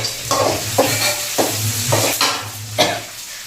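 Lemon rice is stirred in a pan, a spoon scraping through it in about six rhythmic strokes, close and clear with no voices.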